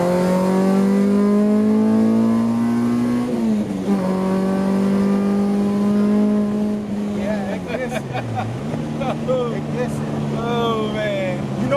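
An all-motor Honda Civic with an H23A engine pulls hard on the street, its engine note climbing and swelling in long rising sweeps. Voices talk over it throughout, and there is a brief dip and recovery near the end.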